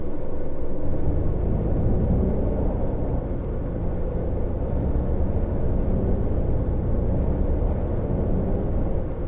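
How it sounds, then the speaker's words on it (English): Diesel engine of a MAN coach in a bus simulator game, a steady low droning rumble that runs continuously and evenly throughout, fairly loud and without speech. "the main reason that I'm doing this is to highlight the engine sounds of the MAN"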